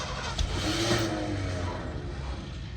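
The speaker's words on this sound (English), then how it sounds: "it's that cam, man. That big lope." A 1979 Ford F-150 Midas Edition V8 runs with a lopey cam, its engine rumbling close and loud with an uneven, loping idle pulse over a few seconds.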